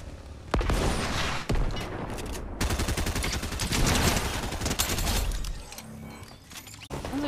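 Sustained automatic gunfire from bots fighting in a battle-royale shooter, with rapid bursts and sharp cracks. A few abrupt breaks cut the barrage, and the shooting stays loud and close throughout.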